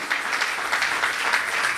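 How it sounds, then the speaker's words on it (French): A church congregation applauds to acclaim the Lord during an evangelistic sermon, a steady dense wash of clapping that holds at an even level from start to finish with no voices over it. "S'il y a quelqu'un qui croit, cela peut acclamer le Seigneur."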